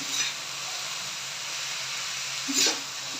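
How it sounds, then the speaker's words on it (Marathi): Already-cooked wild bharangi vegetable being sautéed in a pan gives a steady, fairly loud sizzling hiss throughout, with a brief stronger burst near the end. "भाजी ऑलरेडी आपण शिजवून घेतलेली आहे फक्त तीन ते चार मिनटं परतून घ्यायची"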